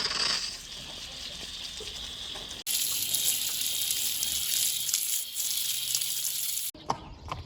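A shower hose sprays water over a horse to rinse off clay, giving a steady, loud hissing gush that cuts off abruptly twice, with brief gaps between bursts.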